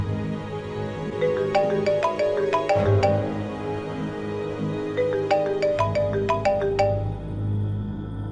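A phone ringtone plays a bright melodic tune in two repeated bursts over a low background hum, with no voices.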